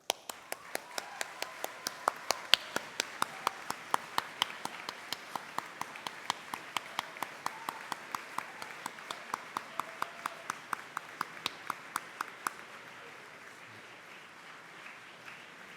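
Sustained applause from an audience giving parents and loved ones a standing ovation at a school leavers' graduation ceremony, dense clapping with steady sharp rhythmic beats, fading toward the end.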